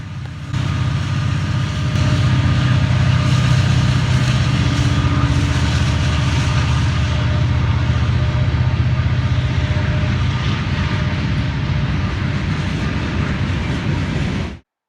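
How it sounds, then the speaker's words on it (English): A Norfolk Southern mixed freight train rolls past with a mid-train DPU locomotive pushing, a loud, steady, close rumble and roar that holds for the whole stretch and then cuts off. "I was able to get the mid-train DPU, which was pushing in the middle"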